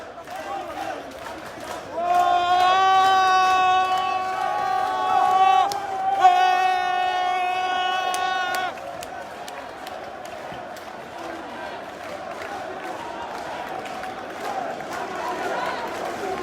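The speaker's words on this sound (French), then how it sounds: "c'est une foule assez importante qui se dirige vers la place de la République" A large crowd of demonstrators marching through the streets of Paris toward Place de la République, a steady murmur with cheers, whistles and chanting, heard under a reporter speaking.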